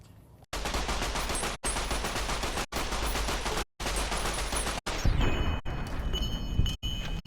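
Automatic weapon fire in Fallout New Vegas comes as long, loud sustained bursts, cut off by brief silent gaps, then gives way to scattered single shots and clatter.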